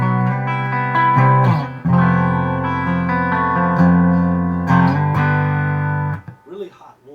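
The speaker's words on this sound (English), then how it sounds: "here's the clean channel, just straight up" Clean channel of a Carvin X100B amplifier played through a hot-rodded Stratocaster with Seymour Duncan pickups: loud, close chords and ringing notes that sustain and change every second or two, then fade into a few soft picked notes.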